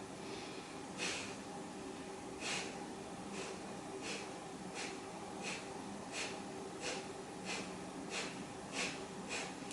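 Rhythmic breathing during a kundalini yoga exercise: about a dozen sharp, forceful exhalations come at a steady pace, each under a second apart, faint and close, with no talking.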